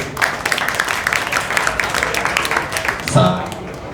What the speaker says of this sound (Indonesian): Boleh tepuk tangan untuk teman-teman pendamping.